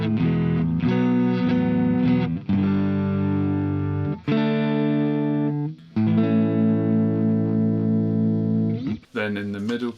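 An electric guitar made from almost no wood, played on its neck pickup into a Marshall amp on a clean-ish setting, rings out in sustained chords and plucked notes, loud and close, with brief gaps between phrases.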